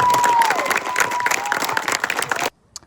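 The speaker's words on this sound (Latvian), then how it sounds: "Dirks ir pelnījis aplausus, tā lai dzird visos blakus pagastos." Dense, lively applause from a crowd at a children's fishing event fills the air, then cuts off abruptly into near silence, with a thin steady tone running faintly through the clapping.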